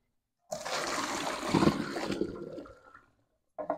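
Water pours and splashes steadily inside an oven for a couple of seconds, then tapers off to a trickle and stops, with a brief splash at the end.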